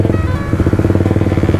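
A Suzuki GSX-R 150 motorcycle engine at speed, a loud, rapid, pulsing buzz close by, with an even throbbing rhythm and no speech.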